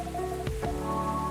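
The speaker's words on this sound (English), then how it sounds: "It's pouring rain again." Steady heavy rain pours without a break in the café video game Coffee Talk, a dense, even wash of noise with no voices over it.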